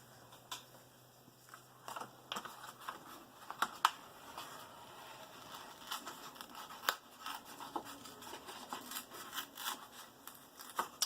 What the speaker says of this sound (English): So I'm going to tear those and cut the rest.